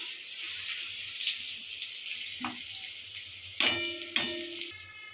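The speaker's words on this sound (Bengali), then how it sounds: "মাংস, আলু ভাজা হচ্ছে।" Meat and potatoes fry in a pan with a steady, bright sizzle. A few sharp metallic clinks from a utensil land near the end.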